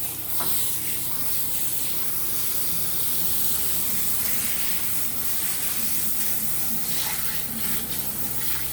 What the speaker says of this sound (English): So, now I'm going to try to spray out my heat pump.